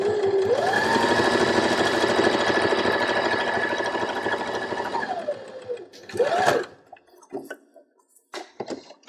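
A sewing machine runs a steady stretch stitching a straight fabric seam with a 5mm allowance, whirring loud and close for about five seconds before stopping, followed by a brief second burst and some light handling noises.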